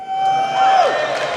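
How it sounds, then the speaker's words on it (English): A home esports crowd at a DreamHack Summer 2014 match between Team Property and Team ALTERNATE cheers and whoops as a steady, dense roar fills the hall, with a few sharper shouts rising above it. "So if you guys are hoping that Alternate are going to come out victorious here, make some noise."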